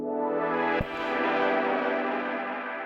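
A sustained synth chord smeared by echoing tape delay repeats on an Ultra Dub setting, with a slight wavering pitch and a brief glitchy jolt partway through.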